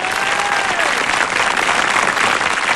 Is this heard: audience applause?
yes